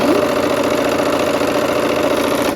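A sewing machine stitches quilt pieces for a barn quilt sampler, running in one steady continuous hum with a constant mechanical whir, loud and close.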